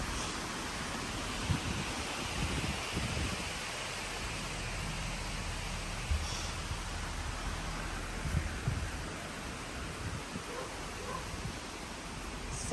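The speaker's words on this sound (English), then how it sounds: "It's really windy." Broad, steady rush of wind blowing outdoors, buffeting the microphone with low rumbling gusts throughout, no other clear sounds.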